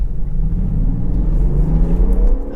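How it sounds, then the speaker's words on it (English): A Land Rover Defender 110 SE with an inline-six engine accelerates hard in sport mode on a forest track. The engine's loud, close rumble climbs steadily in pitch through the gear. "And I love inline six engines."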